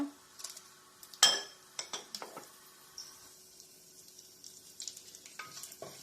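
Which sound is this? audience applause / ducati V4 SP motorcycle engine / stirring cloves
stirring cloves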